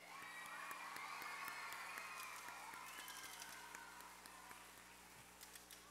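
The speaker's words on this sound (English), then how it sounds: "Let's give them another round of applause, please." Faint applause and scattered cheering from an elementary school rally crowd follow a drum line performance, a distant steady patter of clapping heard alone at low level.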